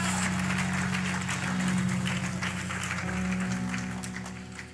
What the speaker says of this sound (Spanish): Vamos, denle ese aplauso, puede ser mejor para el Señor.